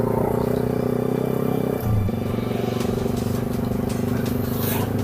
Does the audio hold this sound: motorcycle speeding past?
yes